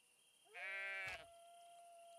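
A sheep in the farming game Everdream Valley gives a single clear, tonal bleat lasting about half a second over a quiet background hum.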